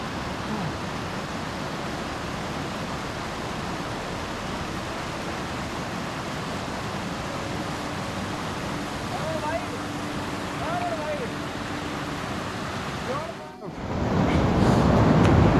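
A cold mountain river fed by glacier water on the Nandi Kund trek rushes in a loud, steady broadband roar, with people talking now and then over it and a brief knock near the end.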